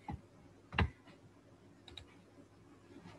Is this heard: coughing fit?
no